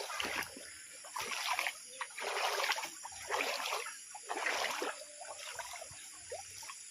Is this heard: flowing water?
yes